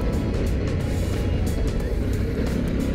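A 2022 Harley-Davidson Pan America 1250 Special ridden in sport mode, steady loud engine drone and wind rush from the rider's position, continuous and close with no talking.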